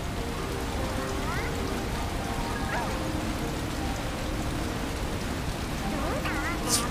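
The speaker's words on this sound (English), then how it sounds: "It's raining." Steady rain hisses as a dense, even wash throughout a scene in the video game Sonic Frontiers, with a few faint chirping tones from the game scattered over it.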